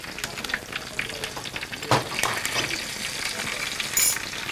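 Garlic, ginger and green chilli sizzling in a hot pan, a busy steady crackle with a few sharp scraping taps of a utensil, close and fairly loud with no voices.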